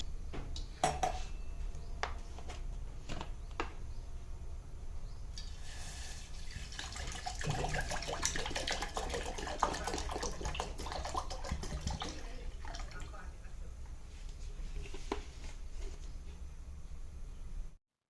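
Water poured into an old thin pot before milk is heated, a steady splashing stream with metallic clinks and clatters of kitchen vessels nearby and no talk.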